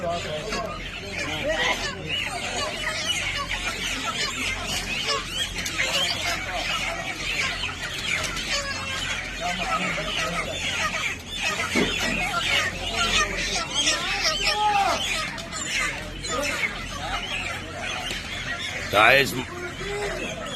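Chickens cluck and squawk steadily at a busy poultry market in Mansoura, with lots of talk and calling in the background.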